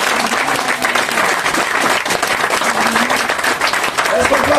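A church congregation applauds and acclaims the Lord, sustained loud clapping filling the room throughout, with voices and cheers mixed into the applause.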